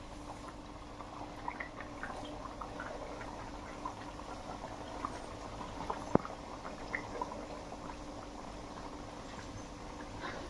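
Doughnuts frying in hot oil give a steady, quiet bubbling and soft crackle throughout, with faint drips and one brief sharp tick partway through, heard alone without talk.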